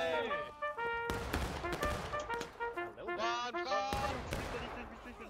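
Musket fire in War of Rights, a battlefield in the American Civil War, with sharp overlapping shots mixed into loud shouting from players and soldiers yelling over each other.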